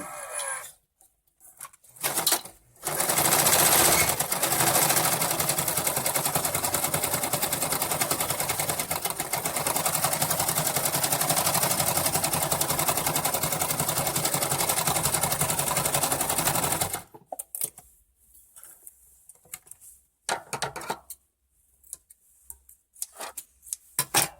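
A Singer sewing machine runs a zigzag decorative stitch in one long steady burst of fast mechanical chatter, close and clear, with brief stops and quieter handling before and after.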